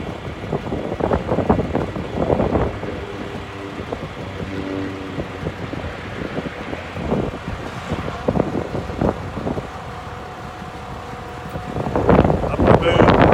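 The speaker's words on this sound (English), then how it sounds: "Apologize for the wind." Gusty wind buffets a microphone outdoors beside a 2006 International 4300 forestry bucket truck. It makes a loud, uneven low roar that surges and falls in bursts.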